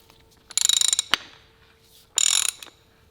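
A hand ratchet snugs a bolt on a rotary-engined Corvette. Two loud, close bursts of rapid pawl clicking are separated by a single sharp knock, with quiet in between.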